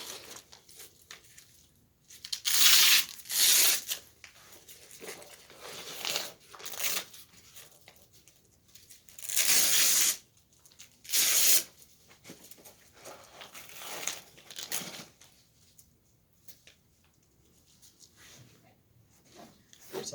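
Ski patrol backboard straps being cinched tight come through as bursts of rasping, zipping webbing pulls, several separate tugs spaced across the stretch with quiet gaps between, close by and fairly loud.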